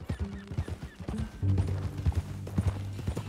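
Horse hooves clip-clopping in Red Dead Redemption 2, a quick uneven rhythm of close, distinct hoof strikes that continues throughout, with a faint low background.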